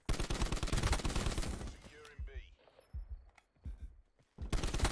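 Rapid automatic gunfire in Call of Duty Black Ops 4 multiplayer, loud dense bursts at the start and end with sparser shots between, heard alongside game effects.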